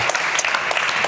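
Studio audience applause on a Serbian talk show, a short burst of dense, even clapping heard up close.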